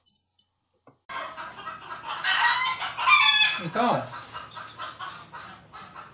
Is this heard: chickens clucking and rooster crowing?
yes